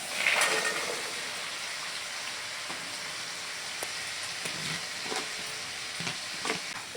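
Cashews frying in a pan, a continuous hissing sizzle with occasional scrapes and taps of a stirring spoon, close and fairly quiet, with no talk.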